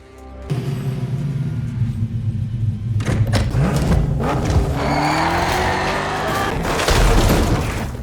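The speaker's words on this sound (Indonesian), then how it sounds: "Jason yang panik nekat masuk mobil dan ngebanting mobilnya berkali-kali ke pintu garasi." A car is driven repeatedly into a closed garage door: a loud, close engine roar rises and revs throughout, broken by heavy thuds and crashing impacts.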